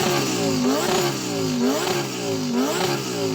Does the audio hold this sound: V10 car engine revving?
yes